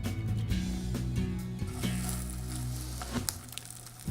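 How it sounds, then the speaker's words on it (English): Crab cakes sizzle and crackle steadily in hot olive oil in a pan, a dense, continuous frying hiss with a few sharper pops, close and fairly loud. "you can hear the crab cake sizzle as they're going into the pan"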